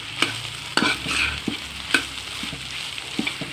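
A spatula stirs an ivy gourd and coconut fry in a pan, giving a handful of sharp scraping knocks over a gentle sizzle, close and with no speech.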